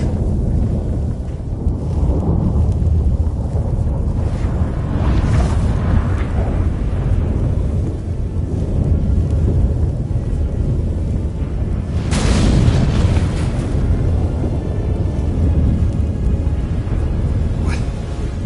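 A thunderstorm rumbles in The Witcher 3 as a dimensional gate tears open, with a steady deep roar and two sharp thunder cracks near the middle and later, loud and sustained with no talking.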